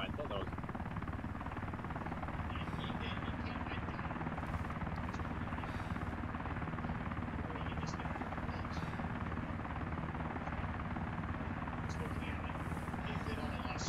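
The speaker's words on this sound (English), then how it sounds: "VTOL's taking off" A VTOL aircraft lifts off in a video game set at an air base, giving a steady, loud rotor-and-engine roar that holds throughout while people talk over it.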